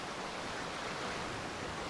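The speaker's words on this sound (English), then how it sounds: "That water sounds so satisfying." Steady flowing water in the GTA 5 video game, a faint, even rushing wash like a stream running continuously, with no other sounds over it.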